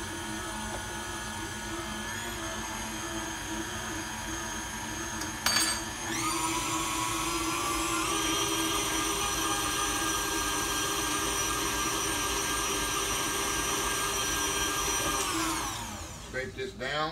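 Electric mixer beating strawberry cake batter in a bowl, a constant close motor whine that shifts pitch as the speed changes, winding down near the end.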